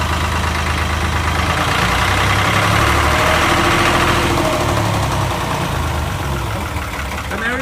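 Narrowboat diesel engine revved up to charge the battery through a newly fitted alternator, a loud, continuous rumbling drone with vibration, held steady at high revs close by.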